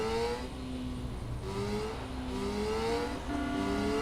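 Car engine in the video game Saints Row: The Third, revving with rising and falling whining pitch across several gear-like sweeps, loud and steady without any talk.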